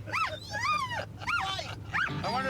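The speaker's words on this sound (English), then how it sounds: "That dog is a menace to society." A dog gives a string of high whimpering yips and whines, four or five rising-falling cries in quick succession over a low steady engine-like hum in a restoration shop setting.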